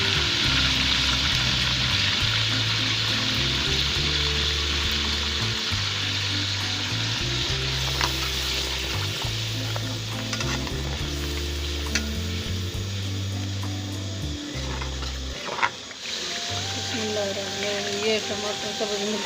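Onion, green chili and tomato paste frying in a pan for white chicken pulao, a steady sizzle with rhythmic stirring scrapes and clinks, loud and close, then a brief pause and softer frying.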